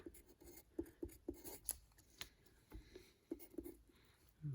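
Pencil scratching and tapping on paper while solving algebra problems, a series of short, quiet strokes in an irregular rhythm, close up and alone.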